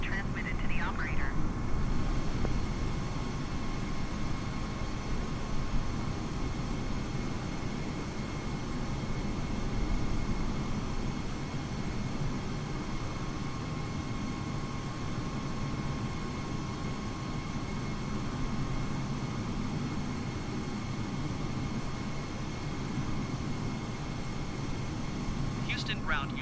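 A United Airlines airliner sits on the ramp at Houston during pushback, with a steady broad engine and tug rumble and a constant whine running the whole time, while faint radio voices come through at the edges.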